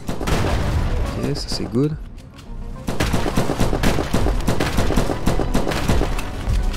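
Pistol fire in the co-op video game From Space, rapid cracking shots in a dense burst with a short pause midway, while someone talks over the shooting.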